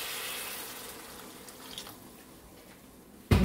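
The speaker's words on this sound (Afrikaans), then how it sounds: "Dan voeg ek net 'n klein bietjie water by." Tap water runs in a thin, steady stream into a cooking pot while a macaroni and mince curry dish is being made, close and fairly quiet, then a sudden louder clatter cuts in at the very end.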